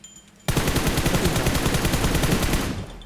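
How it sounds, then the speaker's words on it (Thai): Automatic gunfire in the PUBG Mobile game breaks out suddenly after a short quiet lead-in, a loud, steady stream of rapid shots that continues almost to the end. "ไว้ซ้ายบนยิง ยิงเราปะ"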